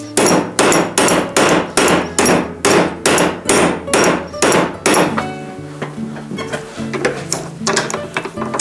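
Metal hammered on the anvil section of a vise during a vintage Trek 950 mountain bike restoration: about ten loud, evenly spaced ringing blows close by, then a brief ringing tail and quieter clanks.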